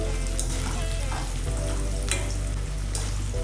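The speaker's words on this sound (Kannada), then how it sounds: "ನೋಡಿ, ಫ್ರೈ ಆಗ್ತಾ ಇದೆ." Bitter gourd pieces fry steadily in hot oil, a dense close sizzle that holds for the whole stretch, with a few louder crackles and a low steady hum behind it.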